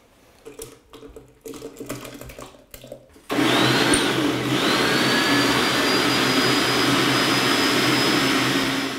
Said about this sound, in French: Donc maintenant, on va pouvoir procéder à les mixer.